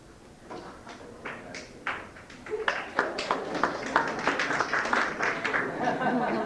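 An audience at a live spoken word show in a Los Angeles club breaks into scattered, tentative claps that quickly thicken into steady, moderately distant applause, with some murmuring under it.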